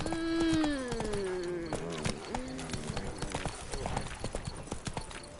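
Horse hooves clip-clopping at a gallop in The Witcher 3, a quick steady rhythm of close thuds with a loud high whinny rising and falling at the start, the galloping continuing alone afterward.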